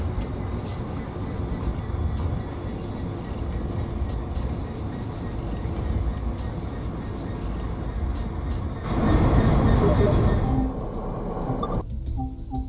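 Train sounds from Train Sim World East Coastway, a steady rumbling rail run with a louder, brighter surge of wheel and track noise near the end before it drops back, with no talking.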